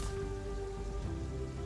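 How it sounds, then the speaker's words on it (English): Rain in the video game Terraria, a steady dense patter of rainfall over a low droning game background, continuous and even throughout with no voices. "this rain effect is really cool too"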